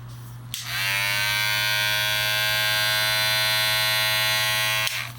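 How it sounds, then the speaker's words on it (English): A hair trimmer switches on and buzzes loudly and steadily for about four seconds up close, then clicks off. "This is the trimmer."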